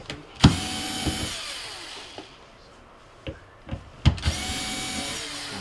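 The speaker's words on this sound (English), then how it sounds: "now we're going to remove the emitter board by removing the 3 mounting screws" Power screwdriver backing out the mounting screws of a Whirlpool refrigerator's ice maker emitter board, several short whirring bursts separated by pauses and small clicks, close by.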